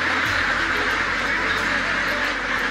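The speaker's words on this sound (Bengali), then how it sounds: "হাজার হাঁসের কোয়াক কোয়াক শব্দে দিন কাটে এই খামারির।" Flock of Pekin ducks on a duck farm, many birds quacking at once in a dense, continuous chorus with a low steady hum underneath.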